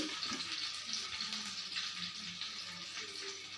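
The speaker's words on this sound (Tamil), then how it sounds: "மீன் வறுவல், பாதி மீன் வறுத்தாச்சு" Pieces of native kendai fish fry crisply in a pan, giving a constant close hiss and sizzle at a moderate level, with faint scattered pops and low stirring noises underneath.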